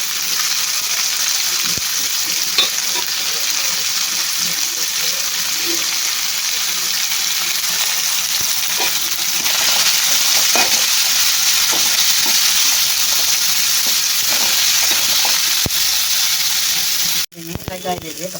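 Beans and carrots frying in a pan for tarakari uppittu, a continuous loud sizzle with intermittent scraping and stirring knocks, ending in a sudden clatter and a brief burst of louder sizzling.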